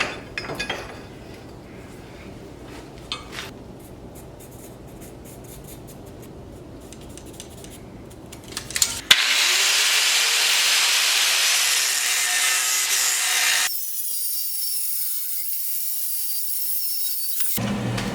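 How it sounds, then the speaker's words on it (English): Sawing through a Damascus steel billet to take off a piece for a chef's knife, a steady loud abrasive grinding that follows a quieter stretch of shop noise, running continuously and shifting in tone partway through. "I'm going to go ahead and cut off the piece that I need to make the chef's knife"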